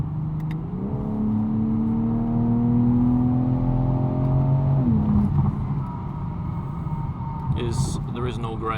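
BMW M4 xDrive engine revving hard under acceleration, a loud rising tone that climbs through the gears with a shift around the midpoint, followed by road and wind roar with occasional talk in the cabin.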